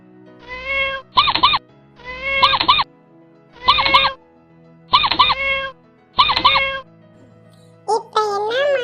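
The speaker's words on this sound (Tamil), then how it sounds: "அது பூனை எலிய சாப்பிட துரத்துது." A cartoon cat chasing a mouse gives five loud, close meows in a regular rhythm, each a rising-falling wail, followed by a squeaky high call at the end.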